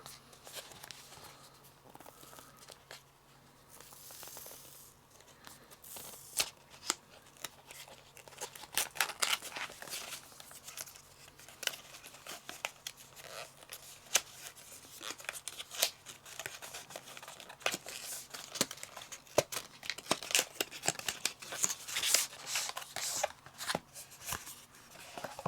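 Wuben PL01 penlight kit packaging being opened up close, with crinkling plastic, rustling cardboard and scattered sharp clicks and taps that come in irregular bursts and build in density, heard alone with no talk.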